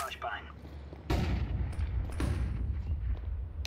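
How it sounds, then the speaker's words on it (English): A flashbang grenade goes off in a video game with two sharp, loud bangs about a second apart, over constant background noise and game ambience. "Deploying flashbang."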